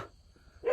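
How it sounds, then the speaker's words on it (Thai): A dog barks outdoors after dark, a short burst close by that ends a brief quiet stretch. "แล้วก็มีเสียงหมาเห่าด้วยนะ"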